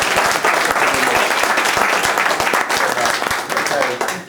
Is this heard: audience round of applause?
yes